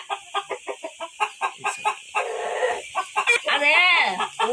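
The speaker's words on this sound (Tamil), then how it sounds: "கோழிக்கா முட்டை போடுறதுங்க எல்லாம் அடிப்பிடுதுங்க" Egg-laying hens cluck in a quick series of short, close bursts, then break into a louder, drawn-out cackling call near the end.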